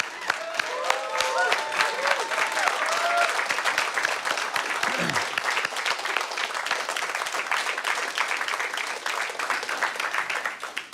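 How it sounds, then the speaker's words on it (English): Applause from an audience at the close of a climate-futures conference session, a dense sustained roar of clapping lasting about eleven seconds, with a few voices and whoops audible early on beneath it. "A big round of applause for this group"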